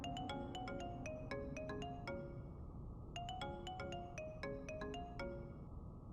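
A phone ringtone plays a repeating melodic chime pattern, two identical bursts of bright tones over a steady background hum, with no talking.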